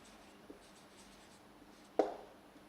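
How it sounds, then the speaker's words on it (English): Chalk or marker writing on a classroom board, faint scratchy strokes with a sharp tap near the end, quiet and close, no talking. "So, I will just write here"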